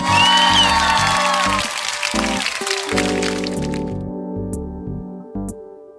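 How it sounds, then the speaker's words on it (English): Loud clapping from a crowd in the video game Highschool Simulator 2018, a dense crackling burst in the first few seconds that fades into steady game music and electronic tones. "Loud clapping."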